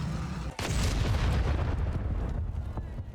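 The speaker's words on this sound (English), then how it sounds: "Critical damage. Explosion imminent." A sudden loud explosion in an open-world RPG video game booms and rumbles on for a few seconds, a broad crackling roar that slowly fades.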